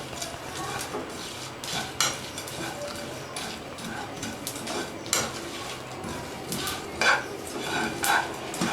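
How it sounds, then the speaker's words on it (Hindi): Spices for chaat masala dry roasting in a pan, stirred with repeated scraping and clinking of a utensil against the metal at an uneven, close pace. "बस इतना भूनना है कि फ्लेवर जो है ना वो अच्छा सा आ जाए।"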